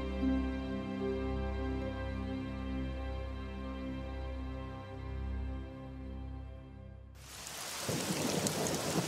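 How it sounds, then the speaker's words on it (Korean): A low sustained musical drone plays for several seconds, then heavy rain and a burst of thunder break in abruptly near the end. "그날 밤 천둥과 벼락을 동반한 큰 비가 내렸다"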